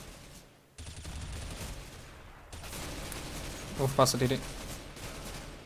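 Rapid bursts of gunfire in a CS:GO match, a cluster of sharp, loud shots in quick succession toward the end, heard under players talking over voice chat.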